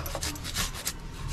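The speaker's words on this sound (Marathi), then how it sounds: "हा अद्रकचा तुकडा आपण आलं घेतलं ना, हा किसून घ्यायचा" A piece of ginger is grated in a home kitchen, giving a quiet, quick run of rhythmic rasping strokes close by.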